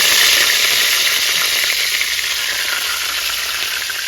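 Mirik fish fry crisp in a pan with a loud, dense, unbroken sizzle close by that fades only slightly over a few seconds, with nothing else heard.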